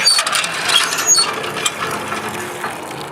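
Old hand water pump in operation, its ratcheting, clanking mechanism creaking in repeated strokes up close, with a faint wash that could be water flowing.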